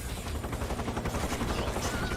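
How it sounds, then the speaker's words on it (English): Rapid gunfire in Metal Gear Solid 3: Snake Eater, with dense bursts of automatic shots rattling continuously throughout at fairly close range. "What are they shooting at?"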